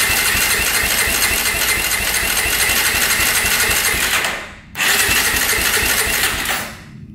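A quad's engine cranks over rapidly during a compression test with the throttle open and a weakening battery, a loud steady churning that drops out briefly before cranking resumes and then stops.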